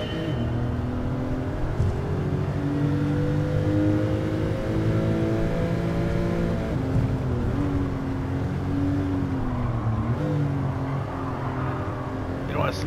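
A Porsche race car engine in Gran Turismo 7 drones steadily and loud, its pitch rising and falling as the car accelerates and shifts, with a voice talking over it throughout.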